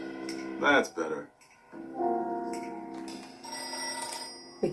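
An in-game telephone rings in the adventure game Voodoo Detective, short repeated ringing bursts alongside musical tones and a speaking voice.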